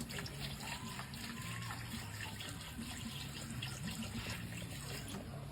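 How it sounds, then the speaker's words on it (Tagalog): Water pours and splashes steadily into a cooking pot nearby, a continuous gurgling flow with faint clinks in the background. "Lagyan natin ng tubig."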